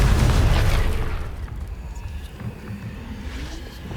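A Confringo blasting spell bursts in Hogwarts Legacy, a loud booming blast at the start that rumbles and fades into a lingering low crackle and hiss.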